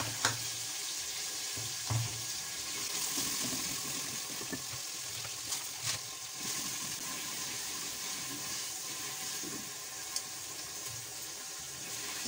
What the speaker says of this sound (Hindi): अब मिर्चें और लहसुन अदरक फ्राई हो चुका है